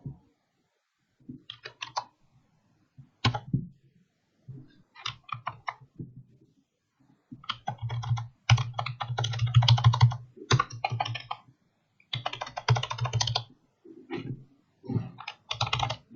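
Typing on a computer keyboard, close bursts of rapid clicking keys separated by short pauses, growing busier midway and continuing in irregular runs.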